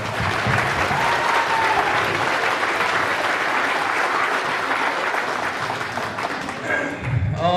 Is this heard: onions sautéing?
no